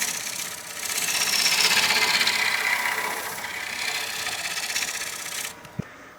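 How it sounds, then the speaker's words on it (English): A bowl gouge scrapes across the face of a spinning wood bowl on a lathe. It makes a steady, loud rasping hiss that swells and eases for several seconds, then stops abruptly with a single knock. "So I'm just going to scrape across the surface here."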